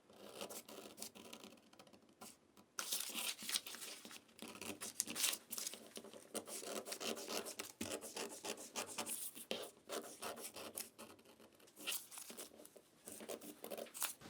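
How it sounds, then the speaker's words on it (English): Scissors cut through a paper sewing pattern for a hoodie along the seam allowance line, making steady, close rasping and crinkling snips that continue throughout with no talking. "Now I'll cut the pattern as per the seam allowance line."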